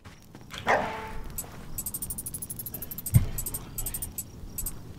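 A dog in the video game Dysmantle, set in the Shattered Suburbs: a single loud yip-like bark near the start, with a brief thump later, over quiet game ambience and tinkling chime tones.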